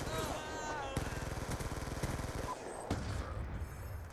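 Rapid automatic gunfire in Black Ops 2, a fast steady burst of shots in the middle followed by a second burst, loud and close over a noisy game mix with a voice talking.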